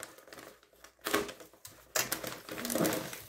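A small parcel being opened by hand, with crisp tearing and crinkling bursts of packaging in two or three close, quiet episodes and short pauses between them.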